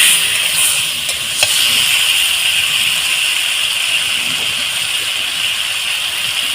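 Potato and spices are lightly stir-fried in a pan for a papaya and katla fish curry, producing a loud, even hiss and sizzle with a few faint clinks early on, continuous and without voices.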